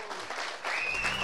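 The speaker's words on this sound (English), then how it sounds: "A big round of applause, please" An audience at a cannabis conference debate applauds in a steady wash of clapping, with a faint tonal whistle or feedback rising through the second half.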